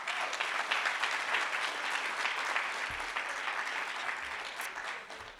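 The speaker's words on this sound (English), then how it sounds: "I'll give you all a great round of applause." Audience at a campus student life awards ceremony applauding, a dense, steady wash of clapping that fills the room and holds throughout before easing slightly at the end.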